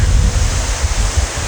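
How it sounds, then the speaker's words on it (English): Strong wind gusts buffet the microphone, a loud, rumbling roar with uneven bursts and no talking. "it's very windy"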